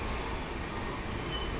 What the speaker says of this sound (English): And here is the train at the metro station.